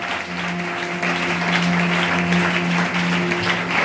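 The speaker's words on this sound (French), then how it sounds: "Est-ce que tu peux l'acclamer ce soir?" Steady applause and cheering from an evening audience, a continuous dense wash of clapping at even loudness with a held tonal hum running underneath throughout.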